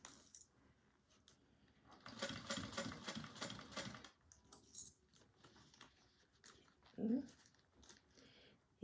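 Sewing machine backstitching seams on a handmade bag, a short burst of rapid stitching in the middle of quiet handling noises and soft clicks.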